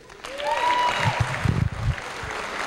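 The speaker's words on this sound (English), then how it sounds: "Ladies, clap for the ladies." Comedy club audience applauding for the ladies, scattered claps and crowd noise rising under a faint whistle-like tone and background murmur, moderately loud and somewhat uneven.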